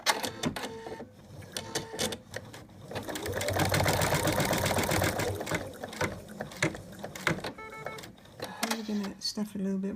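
An embroidery machine stitching out an in-the-hoop dog design, a rapid mechanical whirring and clattering hum that swells through the middle, with a voice speaking over it at times.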